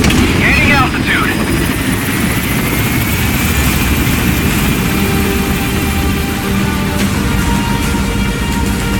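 An extraction helicopter lifting off in Metal Gear Solid V, with a loud, continuous low rotor and engine drone that holds steady throughout and a voice speaking over it briefly near the start.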